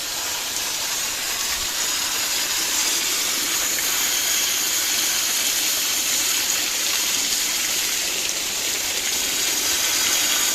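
Natural spring water flowing in the mountains near slate mines by Dharamshala, a steady bright hiss of rushing water, close and continuous with no voices.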